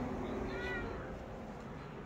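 A shop cat gives one short, faint meow that rises and falls, heard against steady room noise.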